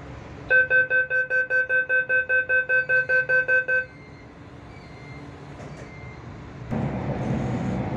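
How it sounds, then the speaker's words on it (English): A subway train at Daxing Airport station sounds a door-closing chime of about a dozen evenly spaced loud tonal beeps, then a quiet lull before a louder broad rumble of the train starting to move. "The train doors are closing. Please mind the doors."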